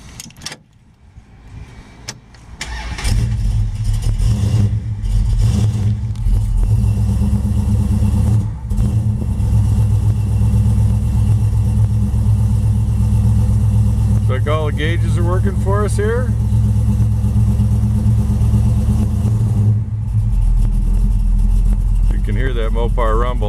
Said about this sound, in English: Hear that Mopar rumble. It's still cold.